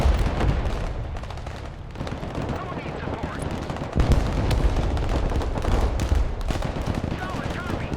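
Dense artillery and gunfire from the modern real-time strategy game Broken Arrow, with continuous rumbling booms and rapid shot bursts layered throughout and a heavier impact near the middle, all under talk.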